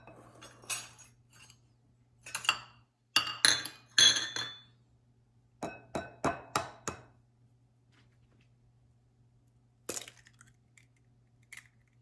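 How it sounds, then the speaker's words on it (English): Eggs cracked one after another against a bowl in a home kitchen, giving a series of sharp clicks and taps with short pauses between them and a faint steady hum behind, with no talking. "Then crack 3 eggs with it."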